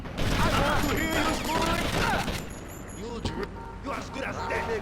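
Gunfire from a sniper rifle in GTA: Vice City cracks out in several sharp bursts amid game noise, with a voice talking throughout.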